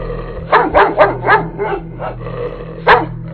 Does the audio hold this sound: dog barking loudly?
yes